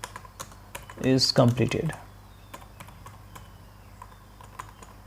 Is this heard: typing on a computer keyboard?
yes